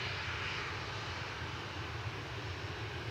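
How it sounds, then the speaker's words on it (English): Jet engines of a two-month-old Kuwait Airways Airbus A330-900neo arriving at Manchester Airport, a steady, loud, broad roar with a low rumble that holds evenly throughout without any voices. "A Kuwait Airways Airbus A330-900 Neo, registration 9K APN,"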